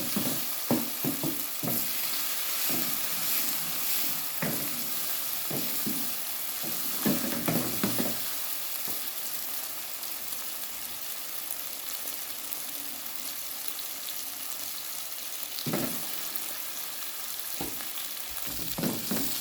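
Chicken mince (qeema) fries in a pan with a continuous loud sizzle, punctuated by repeated scraping and clinking from a spoon stirring the meat, with no speech over it.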